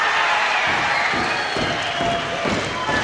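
A wrestling crowd cheers and roars for the winner of a World of Sport bout, a dense, loud wall of voices that stays steady throughout.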